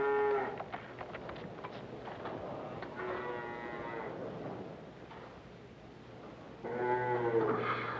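Dairy cows on a farm moo loudly several times, with long low calls near the start, in the middle and at the end over quiet barn background noise.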